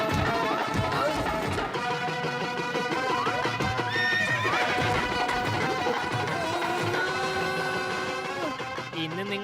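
A cartoon horse whinnies and gallops off during a comic wedding scene, buried in loud, continuous background music that fills the whole stretch.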